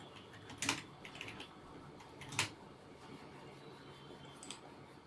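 Quiet typing on a computer keyboard, a few scattered key clicks with a couple of sharper taps, faint and close in an otherwise still room.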